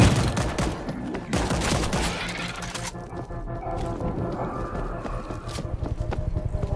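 Dense rapid gunfire in the zombie shooter World War Z, loud continuous bursts of shots with overlapping weapons that ease slightly midway and then keep firing.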